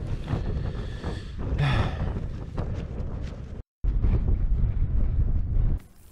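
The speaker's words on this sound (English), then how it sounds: "The wind hasn't let up at all." High wind buffets a four-season Lanshan tent at a wild camping spot in bad weather, loud roaring gusts flapping the fabric in surges, briefly cut out, then blowing hard again before dropping off.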